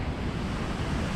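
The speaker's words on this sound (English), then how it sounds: "A little waterfall there." A small waterfall in a Japanese garden gives off a steady, even rush of falling water that fills the scene without pause, moderately loud and broadband, with no voices.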